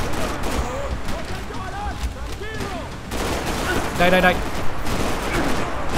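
Gunfire in the Max Payne 3 video game, a steady rattle of distant shots under game sound effects, with a voice barking a word partway through.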